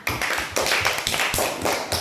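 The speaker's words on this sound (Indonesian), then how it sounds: "beri tepuk tangan dulu untuk kelompok magma" Classroom students clapping for a presenting group, several bursts of brisk, close hand claps in quick succession at moderate loudness.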